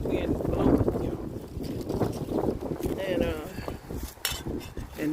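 Gusty west wind blows across an open sweet potato field in New York, buffeting the microphone with a steady low rumble while someone talks over it.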